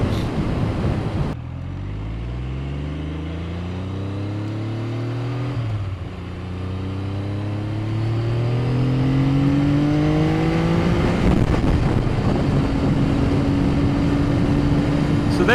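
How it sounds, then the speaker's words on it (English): Triumph Daytona 900 triple motorcycle ridden hard, engine note climbing through gears with steady rising harmonics, loud and close with wind rush over the top. "So there we are, the first ride on the 900 Daytona triple"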